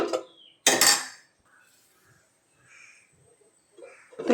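A metal lid is set onto a cooking pot of simmering fish curry base, giving a sharp clank followed by a louder clatter. Quiet kitchen rustles follow.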